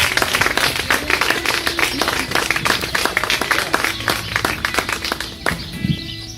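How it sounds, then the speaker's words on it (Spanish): A church congregation claps for the Lord, producing dense, rapid, sustained applause close by that fills the whole stretch and trails off slightly toward the end. "Dale un fuerte aplauso al Señor."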